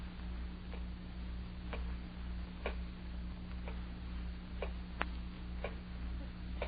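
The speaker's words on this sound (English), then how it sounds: "Terrible clock." An old clock ticks faintly and unevenly in a quiet room, its soft clicks sounding about once a second over a steady low background hum.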